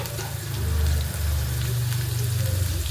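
Onion and capsicum frying in a pan give a dense, continuous sizzle under a strong low rumbling hum, close and fairly loud.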